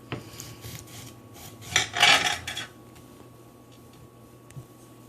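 A serrated ceramic kitchen knife saws through food in a quick burst of rasping strokes, loudest near the middle, with faint scraping before and a soft tap afterward, close up and without talk.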